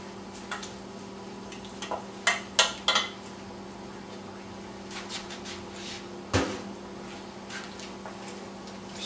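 A spoon stirs minestrone soup with pasta shells and tomato in a pot, giving a few soft, scattered clinks and scrapes against the metal over a steady low hum, with one sharper knock partway through.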